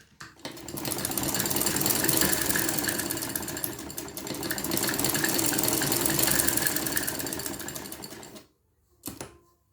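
A sewing machine runs steadily while stitching the neckline of a striped umbrella-style frock, a dense rapid clatter sustained for about eight seconds, then a pause and a brief final burst.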